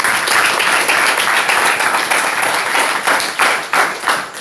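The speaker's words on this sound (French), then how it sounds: "Applaudissons pour le Seigneur." A church congregation applauds together in a dense, sustained burst of clapping, loud and close, holding steady for several seconds with a slightly ragged rhythm toward the end.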